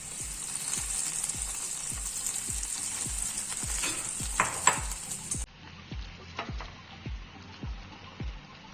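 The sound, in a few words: bread slices frying in hot oil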